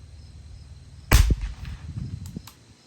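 One sharp, loud unsuppressed gunshot cracks over a chronograph outdoors, followed by a short fading echo in a quiet setting.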